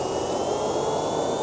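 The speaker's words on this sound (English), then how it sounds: "It sounds like one of those toy airplanes that you get and then you click the button on the top and it makes a sound. Like an airplane taking off" A jet-engined airplane takes off in the GTA video game, producing a continuous, loud, even roar with a thin high whine running through it and no voices.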